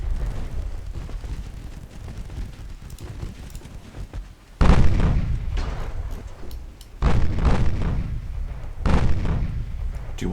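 Secondary guns on a warship fire at destroyers in the naval game Ultimate Admiral Dreadnoughts, heavy booming salvos landing at intervals of a few seconds over a continuous rumbling battle din.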